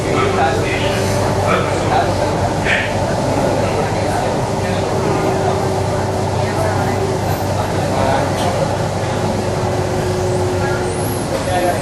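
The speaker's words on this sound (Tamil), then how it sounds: "metro rail" Steady rumble of a Bangalore metro train in motion, with continuous rolling noise and a faint tonal hum, voices murmuring over it throughout.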